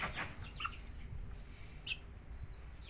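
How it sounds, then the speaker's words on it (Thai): Young New Zealand laying hens make soft, faint clucks and a couple of brief chirps against quiet barnyard background noise. "ไก่ไข่นิวซีแลนด์นะครับ"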